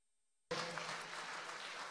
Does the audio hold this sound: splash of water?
no